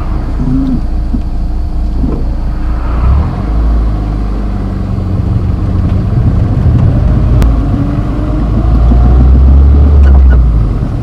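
Peugeot 106 Quiksilver car driving at speed in first gear, its engine a steady loud low drone with road and wind roar that swells toward the end; no talk.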